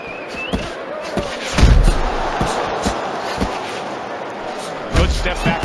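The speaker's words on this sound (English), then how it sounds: "Good step back counter punch there. Good right hand." Boxing punches land with dull thuds and slaps, including a counter punch and a right hand, over the steady murmur of an arena crowd and ringside commentary.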